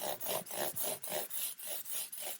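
Rhythmic back-and-forth rasping of sandpaper rubbed by hand over guitar frets, about nine steady strokes, close and clear with no talking.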